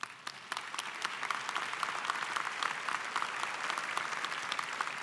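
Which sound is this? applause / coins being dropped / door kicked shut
applause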